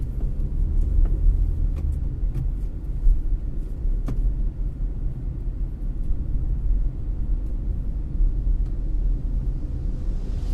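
A long bus rumbles slowly through a narrow street while making a wide turn, its low engine drone steady and close with small bumps and knocks, and no talking.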